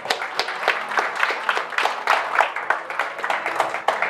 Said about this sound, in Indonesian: Berikan tepuk tangan yang sangat meriah.